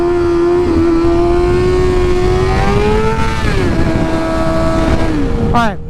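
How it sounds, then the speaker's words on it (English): A motorcycle rider pulls a wheelie, the engine droning loud and close in a steady revving tone that rises, dips and climbs again before a quick high rev near the end. "I haven't ridden a wheelie in a long time"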